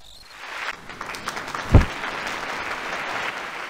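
Crowd applause from the 1996 PC game Elroy's Costume Closet: a steady wash of clapping runs throughout, with a single louder thump near the middle.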